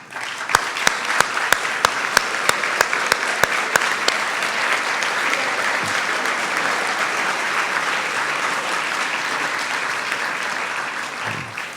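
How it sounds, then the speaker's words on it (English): Keynote audience at a Wall Street conference gives a sustained round of applause for standing Citi staff, dense continuous clapping from a large crowd with a few sharp close claps early on. "please give them a round of applause"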